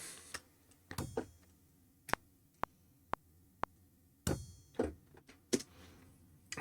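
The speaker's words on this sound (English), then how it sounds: "It's this tiny little tine kind of a sound." Reversed tiny tine synth tone, faint swelling plucks that end in sharp clicks, repeating in an uneven rhythm over quiet background with a hint of low thunk.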